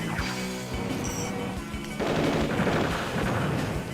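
A tank attack in Advance Wars: Dual Strike bursts out as a rapid string of gunfire-like blasts and crashes under game music, with a louder, denser barrage in the second half.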